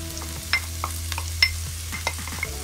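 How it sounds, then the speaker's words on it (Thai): Chopped cabbage stir-fried in a pan for vegetarian steamed bun filling, with a steady low sizzle and scattered scraping clicks of a spatula at an irregular rhythm, close by and with no talking. "ใส่กะหล่ำปลีลงไปผัด"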